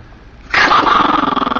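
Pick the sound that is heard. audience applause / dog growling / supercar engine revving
dog growling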